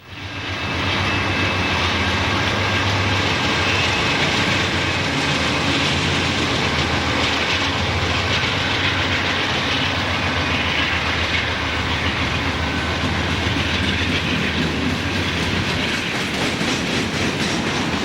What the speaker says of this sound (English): Another empty coal train is passing through downtown Altoona, about to start its climb to the summit.